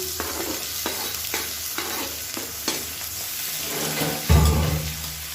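Chopped onions frying in oil with curry leaves and asafoetida, giving a steady close crackling sizzle with repeated scraping stirs against the pan and a louder surge near the end.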